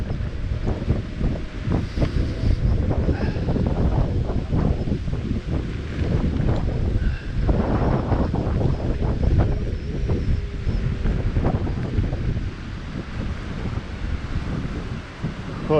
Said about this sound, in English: That wind, isn't it?